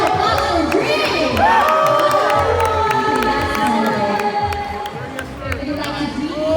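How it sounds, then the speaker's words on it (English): A crowd at an anime fair claps and cheers for a performer, with shrill whoops and children shouting over broad applause that stays loud and steady throughout. "Please give a round of applause for Dream."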